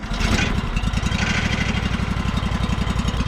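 A sawmill's small engine runs steadily while warming up, a close, loud, throbbing putter with a fast, even pulse and no talking.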